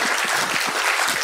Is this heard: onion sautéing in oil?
no